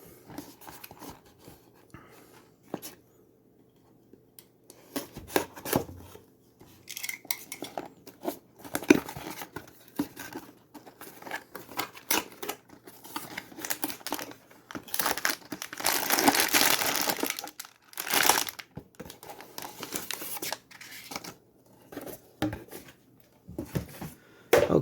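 Plastic packaging of a Reobrix Cadillac Eldorado brick building set being torn and crinkled open, with crackling bursts on and off for about 25 seconds, close up and fairly quiet.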